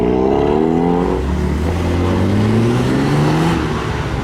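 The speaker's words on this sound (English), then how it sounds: "We have an S14 arriving" A modified Nissan S14 rolls into a car park at a modified car meet, its engine note loud and close with steady, rising harmonics as it arrives, other engines rumbling alongside.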